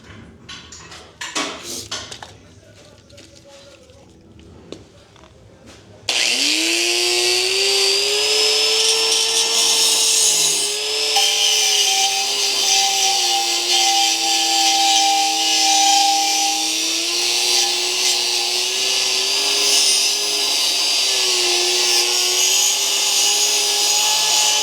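A power tool cuts apart the stock exhaust header section of an E46 M3 with the S54 engine, starting after a few seconds of clattering handling and then running as a loud, steady, high-pitched whine with slight pitch wavers.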